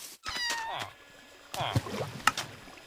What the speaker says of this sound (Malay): Ni kucing tu.